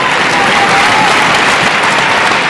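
Steady, loud applause from a badminton crowd at the 2006 BWF men's singles final, with dense clapping filling the whole stretch and no pause.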